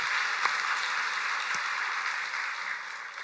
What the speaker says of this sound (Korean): 우리 다시 한번 하나님께 박수로 영광 돌리시겠습니다.